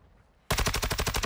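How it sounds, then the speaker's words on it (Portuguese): Rapid automatic gunfire in Warzone 2.0 in third-person mode, a loud sustained burst of evenly spaced shots that breaks in suddenly after near silence. "Tiro de trás."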